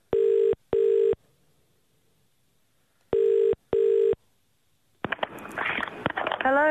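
A telephone dials a call with two pairs of steady electronic tones separated by a pause. A burst of garbled, warbling line noise follows.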